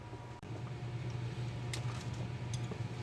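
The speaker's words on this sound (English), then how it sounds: "I got the heater on in the garage" A space heater runs in a garage, giving off a steady low droning hum that holds evenly from start to end with faint higher hiss above it and no voices.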